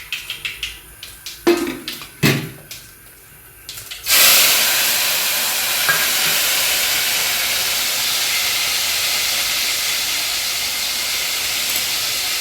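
Dal with peas is tempered in a pot: a few clinks and knocks come first, then a loud hot-oil sizzle bursts in and keeps hissing steadily and close for the rest of the clip.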